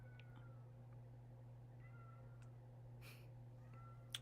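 A cat meows outside a closed door, locked out: several faint, distant meows over a steady low hum, with no talking.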